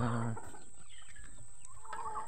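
Low, throaty clucks from a chicken open the clip, then fade into softer scattered bird noises against a steady background hiss.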